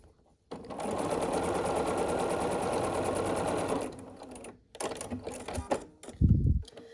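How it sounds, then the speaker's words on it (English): A sewing machine stitches quilt pieces together in a steady, loud, continuous whir lasting several seconds, then stops, followed by brief handling and fabric noises and a short voice. "we will sew the next two pieces in the first two rows together"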